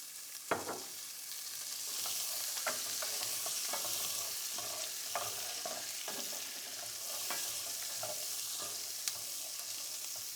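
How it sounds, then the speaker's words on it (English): Carrots sauté in olive oil in a pan with a soft, continuous sizzle and scattered clicks and scrapes of stirring, fairly quiet and with no voices. "So I'm gonna let that start to saute and get a little bit brown"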